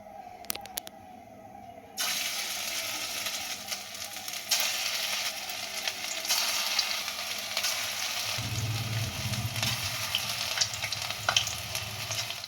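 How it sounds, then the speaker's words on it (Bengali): Balls of chicken pakora batter hit hot oil and fry with a bright, steady sizzle that grows louder and fuller as more are added, close up. "এগুলোকে এরকম বল বানিয়ে তেলে ছাড়তে হবে"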